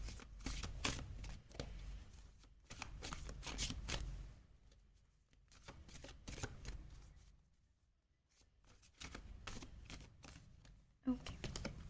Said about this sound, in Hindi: सबसे पहले आपके लिए कार्ड्स शफल कर लेते हैं